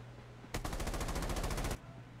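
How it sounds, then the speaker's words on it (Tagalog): Automatic gunfire in the Rules of Survival video game: one rapid, evenly spaced burst of shots lasts just over a second. It is loud and close, with quiet before and after. "Nagkabarilan dito."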